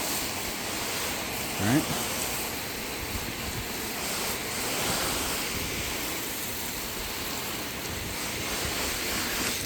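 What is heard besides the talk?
rinsing a car with water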